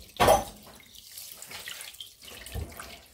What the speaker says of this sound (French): Vous pouvez prendre de l'eau de robinet pour la première rincée.